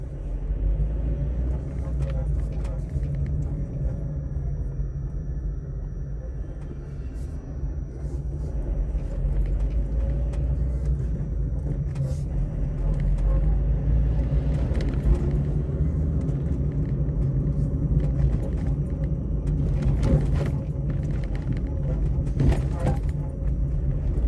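Steady road traffic on a city street in Nilópolis, with cars and a bus going past as a continuous low rumble that swells slightly midway, nearby and fairly loud, with no talking.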